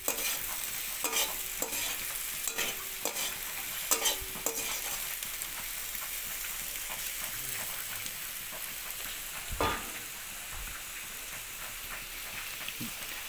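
A spatula scrapes and stirs food frying with cumin powder in a pan, steady sizzling underneath with irregular clinks and scrapes, close and moderately loud.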